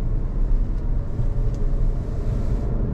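A 2022 Subaru Outback Wilderness on off-road style tires accelerates under throttle on pavement. The engine gives a steady, close, loud rumble for a few seconds, heard from inside the car with no voices.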